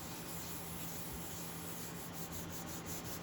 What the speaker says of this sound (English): And we're just making sure we rub all over.